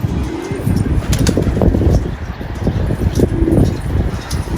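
A male pigeon coos in low, rounded calls, two or three short bursts spread across a steady outdoor background hum with faint rustling, heard near and moderately loud.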